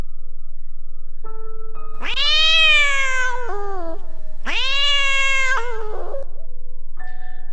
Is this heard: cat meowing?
yes